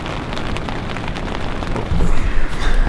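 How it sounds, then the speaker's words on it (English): Steady rain drums on a tent at base camp in the Tetons, a dense, even patter close by that grows louder and heavier near the end, with no talking. "It's still raining"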